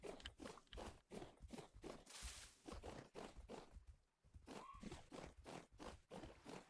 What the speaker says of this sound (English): At least the bears make footstep sounds now.